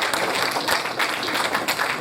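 Audience applause at a 60th anniversary of television in Africa grand finale event, a steady, fairly distant patter of many hands clapping, with no one talking over it.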